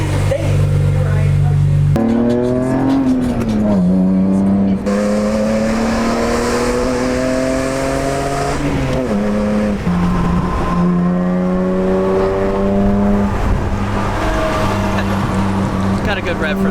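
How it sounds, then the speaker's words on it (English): A BMW M3 engine revs loudly and up close, its pitch climbing and dropping through several pulls over a steady rumble, with voices talking at times underneath. "Got a good rev for the M3"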